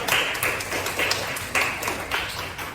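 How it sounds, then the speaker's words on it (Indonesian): A small audience claps irregularly for the speaker at a university public-speaking presentation, with sparse, uneven bursts of handclaps up close and no talk over them. "Tepuk tangan dulu buat narasumber kita"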